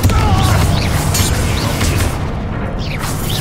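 A Confringo fire spell blasting in Hogwarts Legacy combat: a loud, dense booming explosion with crackling bursts that swells at the start and slowly fades, with a few whooshing spell effects over the rumble.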